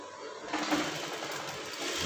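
A sewing machine stitching a brocade fabric mandarin collar, a steady rapid mechanical whir that starts softly and quickly settles into an even, continuous running hum, close by with no talking.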